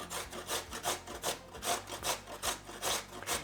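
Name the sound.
grating raw peeled potato on a box grater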